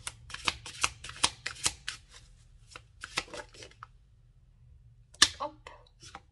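Oracle cards are shuffled in quick, papery riffling bursts over the first two seconds and again around the third, then a few sharp snaps and slides as cards are drawn, all close and clear with no talk.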